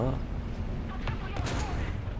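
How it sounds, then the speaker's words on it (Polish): A gunshot fired in the War Thunder video game on the Breslau map: a couple of sharp, booming cracks stand out over a constant low rumble of battle noise. "O, taki strzał na ślepo."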